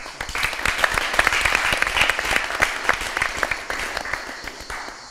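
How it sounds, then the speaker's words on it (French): Studio audience on a French TV game show bursts into sustained applause, dense overlapping clapping at steady loudness with a faint voice underneath. "Ça veut dire qu'on peut applaudir pour vous."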